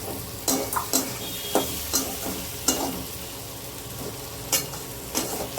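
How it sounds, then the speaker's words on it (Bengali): Chopped tomatoes fry in a pan with a steady sizzle, while a spoon stirs and scrapes them in repeated, rhythmic strokes close by, with no talking. "এবার এরই মধ্যে আমি দিয়ে দেবো কেটে রাখা টমেটো"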